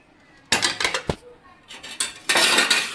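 A utensil stirring and scraping prawn biryani in a metal pot, with irregular clanks and rattling bursts separated by short quiet gaps, close and fairly loud.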